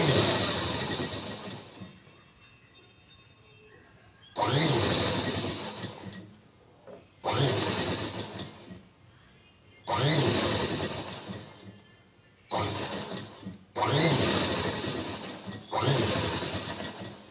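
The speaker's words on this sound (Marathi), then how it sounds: "अगदी सावकाशपणे न खेचता आपल्याला ही शिलाई करायची आहे." A sewing machine stitches a princess-cut blouse panel slowly, running in about six separate bursts of whirring with quiet pauses between them as the fabric is guided.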